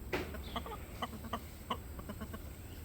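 Soft, scattered clucks from free-roaming chickens nearby, a few short calls spread over a few seconds against a low background hum.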